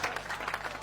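A brief, close burst of audience applause with some cheering fills a Hindi poetry recital, dense and steady for under a second.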